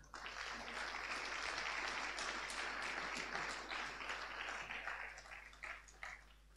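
A seated audience at a space colloquium round table applauding a European MP, steady sustained clapping at moderate distance, swelling and then thinning out toward the end, with a low hum beneath.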